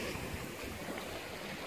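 Waves and wind on the south side of Siquijor island in the Philippines make a continuous broadband rush of surf and gusts, steady and moderately loud with no voices.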